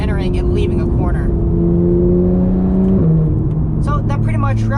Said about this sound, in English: today's POV drive of this beautiful 2015 Porsche 911 GT3